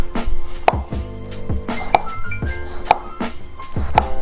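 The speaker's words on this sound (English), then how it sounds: "Toss a little more aubergine in there. Cut a few slices." Knife slicing aubergine on a cutting board: a steady series of sharp chopping knocks about once a second, close and clear, with faint clinks between strokes.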